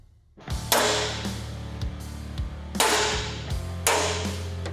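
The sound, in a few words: punch and hammer punching out hole centers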